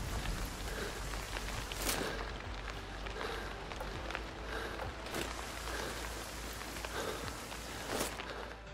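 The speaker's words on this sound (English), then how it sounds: "I even had an instance where there was a thunderstorm in the game" Thunderstorm rain in the video game Sniper Ghost Warrior 3 comes across as a soft, continuous patter like light drizzle, with occasional footstep-like thuds and no clear thunder.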